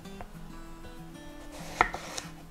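A few soft knife cuts on a board slicing eggplant into rings, one sharper chop standing out near the end, with quiet kitchen background.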